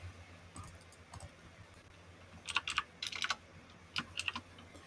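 Quiet computer keyboard typing in short bursts of rapid clicks with pauses between them, faint and close to the microphone.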